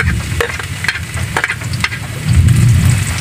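Chopped ginger and garlic fry and sizzle in a hot pan for duck adobo in coconut milk, with steady crackling, a few sharp stirring clatters, and a louder low sizzle building near the end, close and without talk.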